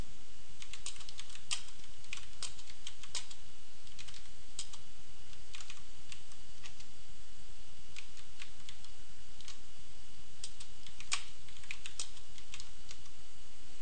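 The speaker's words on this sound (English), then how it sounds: "You can type in the text freely according to whatever the rules are that are" Someone types on a computer keyboard, irregular bursts of crisp key clicks at a steady close distance over a soft constant hiss.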